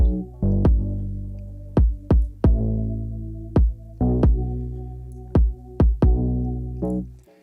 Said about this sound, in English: I'm actually just boosting the low end of both the bass line and the kick drum